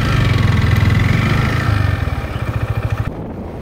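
Motorcycle engine running steadily at moderate speed during a road ride, a loud continuous mid-pitched drone with a slight pulsing, close to the microphone, settling toward a lower idle near the end.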